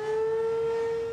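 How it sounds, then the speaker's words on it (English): A teen curfew siren sounds at 9 o'clock as a single steady, sustained tone with clear harmonics, loud and unbroken, with no voices over it. "at 9 o'clock, when you hear this siren"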